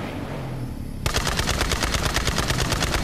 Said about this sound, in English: Something else is shooting at me.